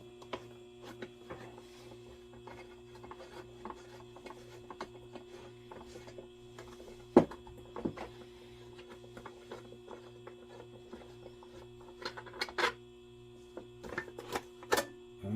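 Small clicks, taps and scrapes of a screw being worked out of the air cleaner on a Yamaha Virago motorcycle, faint and sparse at first and then sharper and more frequent, heard close up over a low steady hum.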